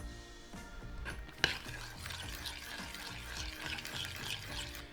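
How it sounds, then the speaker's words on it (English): Water poured into a pan already holding coconut milk on the stove, a soft continuous trickling and splashing with a small metallic clink near the start, fairly quiet and close. "then you add half a can of coconut and around 200 milliliters of water"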